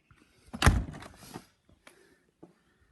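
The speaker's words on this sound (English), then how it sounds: "We're going to shut the shop door now." A golf pro-shop door swings shut with a loud, close thud and rattle, followed by a few faint clicks and small knocks as it settles, with no one speaking.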